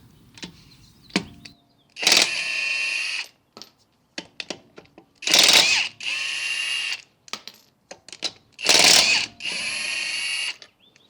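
A Hercules HCB89B 1/2 in. high-torque cordless impact wrench with an extended anvil runs on the lug nuts of a wheel. It gives three loud, separate bursts of hammering whir, with scattered clicks and handling knocks between them, close up and without speech.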